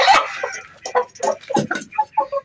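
A hen clucks close by in a run of short, choppy calls, several quick bursts with brief gaps between them and no talk over them.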